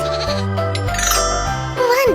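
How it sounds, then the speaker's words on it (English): A goat bleating, a few loud, close, wavering calls alongside light jingling in a short burst. "A big goat and a little goat."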